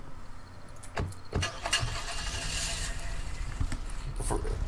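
A car engine in the video game Apocalypse Rising cranks with a few sharp mechanical thumps, then settles into a steady mid-pitched running rumble, fairly close and with no talk.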